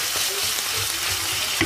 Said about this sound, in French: Et je tourne, je remue.